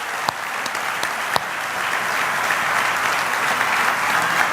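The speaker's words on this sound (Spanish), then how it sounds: "Y vamos a darle el mejor aplauso al Señor." A church congregation breaks into loud, sustained applause, a dense wash of many hands clapping close together that keeps building over a few seconds, with a couple of sharper individual claps near the start.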